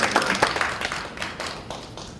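Scattered audience clapping at a panel discussion on unfair election broadcasting, a short spell of uneven hand claps at moderate volume that quickly thins out.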